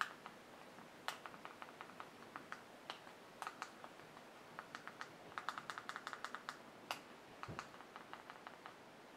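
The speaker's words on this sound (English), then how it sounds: "I'm going to painstakingly type in these things" Keys tapped on a computer keyboard while entering a TV show search, quick bursts of close, crisp clicks with short pauses between runs, no voices.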